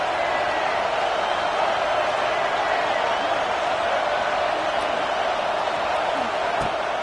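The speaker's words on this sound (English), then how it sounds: "Here comes the noise from this big crowd in Happy Valley on third down." A big football stadium crowd in Happy Valley roars on third down, a loud, dense, unbroken wall of noise that holds steady for the whole stretch.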